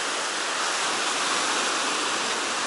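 Sea waves wash steadily onto the shore at Zelenogradsk in a continuous broadband roar, close and fairly loud, with no voices.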